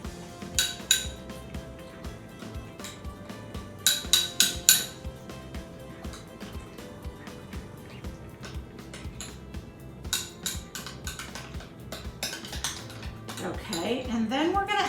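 A spoon clinks rapidly against a bowl while a beaten egg is stirred with salt, in quick bursts of close tapping with pauses, and a voice talks in between.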